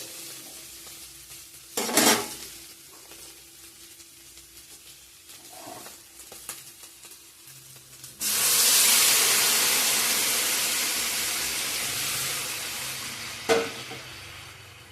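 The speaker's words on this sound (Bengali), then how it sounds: "গুঁড়ো মশলা পেস্ট করা ভালো করে কষিয়ে নিয়েছি। এখন জল দিয়ে দেবো।" Hot water poured into a pan of chicken curry with fried ground spice paste, a sudden loud sizzling hiss that slowly fades, after a few clinks of a utensil against the pan.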